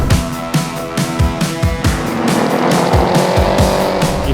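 A BMW R 1250 GS motorcycle accelerating hard on a fast track, loud and close, with repeated rising engine revs through gear changes over continuous wind and road roar.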